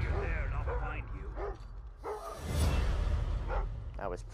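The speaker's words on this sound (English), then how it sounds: "That dog doesn't shut up." A dog in the stealth video game Thief barks repeatedly in short bursts, mixed with in-game voices and ambient game sound.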